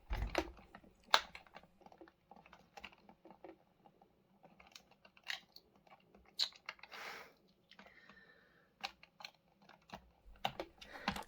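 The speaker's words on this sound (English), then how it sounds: "Let's get those screws all the way through." Small screws are driven by hand into plastic Cybot robot parts, giving faint, irregular clicks and scrapes with short pauses between them in a quiet room.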